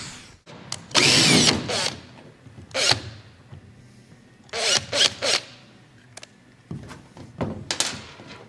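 Power drill driving screws into the body of a 1967 Dodge Dart drag car, several loud bursts of whirring with clunks between them, close up, separated by quieter pauses.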